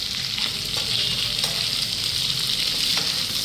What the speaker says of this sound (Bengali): আদা রসুনটা একটু ফ্রাই করে নিতে হবে যাতে রনেসটা চলে যায়।